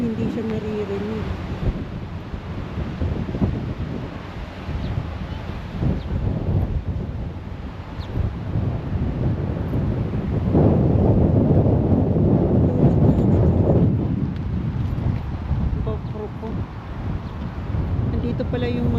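Wind blows outdoors at a park in New Zealand, buffeting the microphone as a steady low rumble, with a stronger gust swelling midway before easing back.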